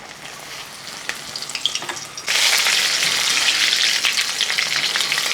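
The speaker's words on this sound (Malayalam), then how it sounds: "ഈ മുളകൊന്ന് വറുത്തെടുക്കുക" Oil sizzles steadily, then bursts into a louder, dense crackling hiss as dried red chillies hit the hot pan, continuing without talk.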